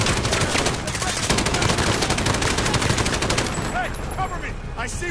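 Sustained rapid automatic machine gun fire from Call of Duty Modern Warfare, loud and dense bursts running almost continuously, with a few sharper ricochet-like chirps near the end.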